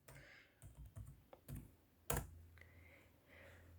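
A search is typed on a computer keyboard in scattered, uneven keystrokes, with one louder clack near the middle, close and quiet.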